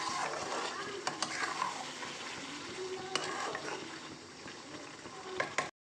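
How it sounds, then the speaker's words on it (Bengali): Mutton being stir-fried in oil until the oil separates, for a black mutton dish: a steady, fairly close sizzle runs throughout, with occasional sharp clicks of a stirring spoon against the pan. "এখন আমরা কিন্তু মাংসটাকে কষিয়ে নিচ্ছি, খুব ভালোভাবে কষাবো"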